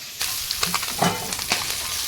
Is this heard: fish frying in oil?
yes